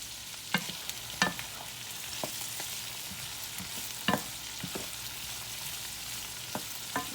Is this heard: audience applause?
no